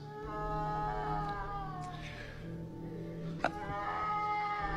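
A cat yowls in a long, wavering, drawn-out cry over a steady low background drone in a crowded space, broken by one sharp click.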